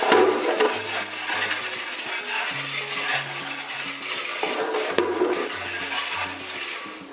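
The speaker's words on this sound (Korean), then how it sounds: "꼼꼼하게 이렇게 헹궈줍니다." Running water from a light spray gun rinses parts of a Winia stand air conditioner during self-cleaning, a steady splashing hiss with gurgling and occasional knocks throughout.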